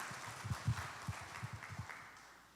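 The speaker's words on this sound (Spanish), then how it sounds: "demos un fuerte aplauso al Señor" A church congregation applauds at a Spanish-language sermon, a short burst of scattered, fairly faint clapping that thins out and fades away over a couple of seconds.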